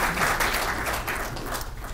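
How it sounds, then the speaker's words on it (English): Brief applause from a small audience at East Windsor Mayor Janice Mironov's 2014 State of the Township address, a short patter of clapping heard from a distance in the room. "Is that an applause? That was applause."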